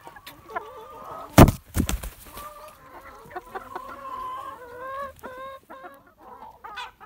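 A hen clucks repeatedly nearby in short, uneven bursts, broken by a loud thump early on and some faint background noise.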